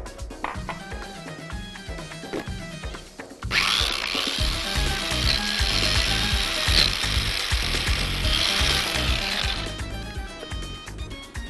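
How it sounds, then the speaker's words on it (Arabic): Rapid knife chopping of fresh parsley or coriander on a cutting board, cut finely, with dense, steady tapping strokes that swell louder after a quieter start and continue without speech. "البقدونس او الكزبره الخضراء، الاثنين ينفعوا، وهفرمهم ناعم خالص."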